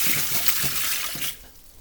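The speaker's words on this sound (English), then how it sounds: "I just add more water." Water poured into a small container of moist pebbles used as an orchid humidity tray, a steady close splashing trickle that stops abruptly, leaving a quiet room.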